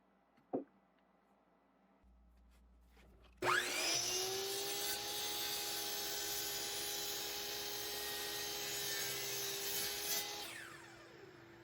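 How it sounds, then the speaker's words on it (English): A power saw spins up and cuts through pieces of wood for a pool noodle holder project, a loud steady whine running about seven seconds before winding down, with a brief knock beforehand. "we'll get this clamped on, and we'll cut the last 10 pieces"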